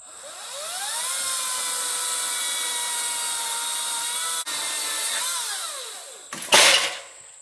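A Hart 14-inch battery chainsaw cuts firewood lengths, a loud steady high-pitched motor whine that holds for several seconds with a brief dip, then a harsh burst as the cut finishes.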